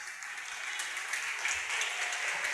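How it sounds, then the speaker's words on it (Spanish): Church congregation applauding during a sermon, a steady wash of many hands clapping that holds at an even level throughout, with no voices standing out. "si van a aplaudir, aplaudan"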